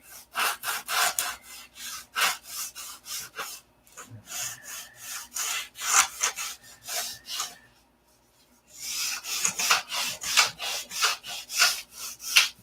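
Balsa wood soaked with CA glue, on a foam piece, is sanded by hand in quick rhythmic back-and-forth rasping strokes, close and fairly loud, with a short pause midway and no talking.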